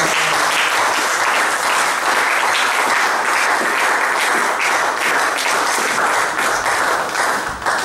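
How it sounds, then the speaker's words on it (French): Church congregation clapping and applauding loudly together, a dense, sustained wash of hand claps running unbroken throughout and easing slightly near the end. "Est-ce qu'on peut acclamer très fort?"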